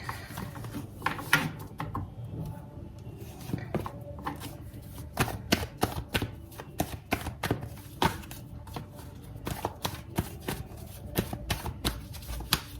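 Tarot cards being handled and straightened in the hands, a quiet, steady run of crisp taps and riffling clicks with some brief pauses.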